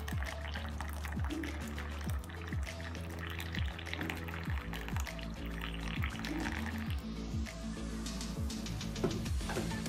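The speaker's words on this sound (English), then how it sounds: "Add a boiled water into the hibiscus flower and leave it for 3 minutes to soak." Boiled water is poured over dried hibiscus flowers in a bowl, making a continuous soft, close trickle with gurgles rising in pitch as the container fills.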